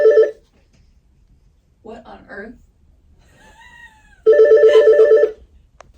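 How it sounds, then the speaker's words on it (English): A hotel room telephone at a countryside lodge resort rings in two loud bursts, one brief at the start and a longer one near the end, with a short spoken exclamation in between. "the phone just rang while I was talking to you"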